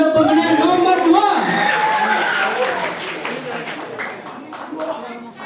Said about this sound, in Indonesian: Ayo tepuk tangan untuk pemenang nomor 2